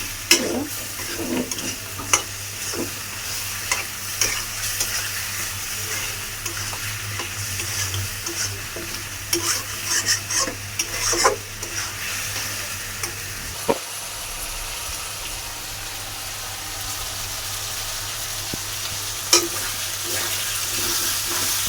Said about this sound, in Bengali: এইটা আবার টমেটোর সাথে ভালো করে একটু কষিয়ে নিলাম